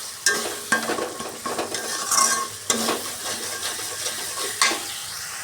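Tomatoes and ginger paste frying in hot oil in a pan, a spoon stirring and scraping with repeated sharp knocks against the pan over a continuous sizzle, close up.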